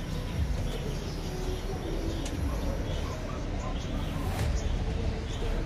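Pigeons in a racing loft, soft cooing under a constant rumbling background noise, with a person talking nearby.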